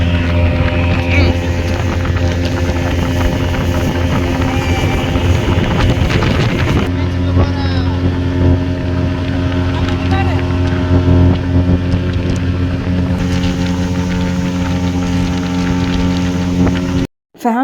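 A motorboat carries a family on a pleasure ride, its engine giving a loud, constant close drone with wind buffeting the microphone throughout, ending in a brief abrupt burst.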